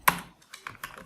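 A few light clicks of computer keyboard typing, an entry of a Java run command, with one sharper keystroke followed by several softer, scattered taps, close and alone.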